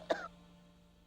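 A single short cough, close and fairly faint, from a scene in a Tamil television drama, followed by near-silence over a low steady hum.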